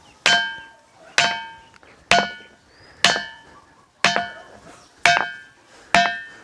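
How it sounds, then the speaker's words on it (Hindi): Temple stone struck by hand, giving seven sharp metallic rings like a bell at an even pace of about one per second, each ring fading quickly, with no talk. "इसमें हम ठोकते हैं तो धातु की आवाज़ आती है।"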